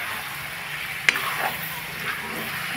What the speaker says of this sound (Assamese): ভালদৰে আৰু হিলাই দিছোঁ